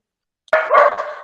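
A single loud, close dog bark bursts out of silence and then trails into a short yelping tail, with no talk around it.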